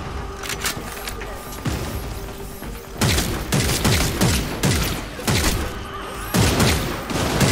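Gunfire in a video game set at a shipyard, with repeated bursts of shots and booming impacts that grow louder and denser midway, while a player talks over the action.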